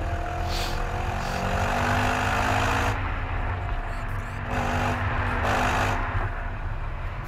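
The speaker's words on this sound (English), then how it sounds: "That thing's revving up" An Audi RS4 engine rumbling and revving up nearby, its pitch rising and falling in surges, with brief gaps in the higher noise.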